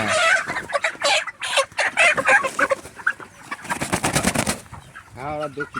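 Broiler chickens cluck and squawk in agitated bursts close by while being caught for weighing, with flapping and scuffling, while people talk in the background.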